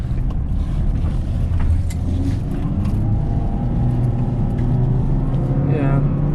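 A 2008 Nissan Rogue with a suspected ignition fault accelerates on the road, heard from inside. The engine drones low and steady under road noise, and the pitch rises gradually as the car picks up speed.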